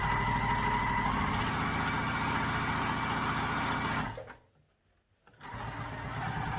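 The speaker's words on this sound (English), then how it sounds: "I do go ahead and sew the facing to it" Sewing machine stitching the facing onto a backpack seam, a steady close mechanical whir with rapid needle pulses, stopping briefly and then starting again.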